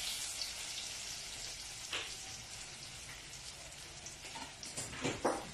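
Tortang talong, an eggplant omelette, frying in a pan, giving a faint, steady crackling sizzle with a few sharper pops near the end.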